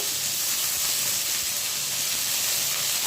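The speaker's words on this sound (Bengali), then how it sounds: "এরপর বেগুনটাকে আমি ভালো করে ভেজে নেব" Eggplant frying in white oil, a continuous close sizzle and crackling hiss without pauses.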